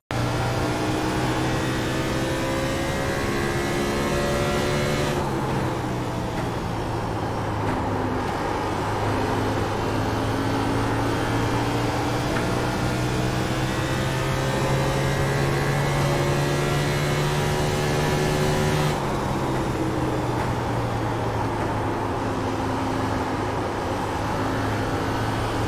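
A race car engine laps Phoenix in the iRacing sim, a steady loud drone that rises and falls in pitch through the corners, with shifts near five and nineteen seconds, continuous with no talk.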